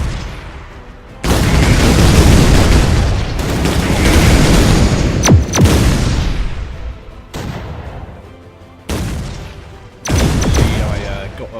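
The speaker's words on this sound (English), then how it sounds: "Got a rather good 60 HP damage shot with the digger round." Digger round shot in the tank artillery game Shellshock Live, with dense, booming blasts and crackling explosions that roll on continuously and are cut by several abrupt restarts. The sound is loud and game-like.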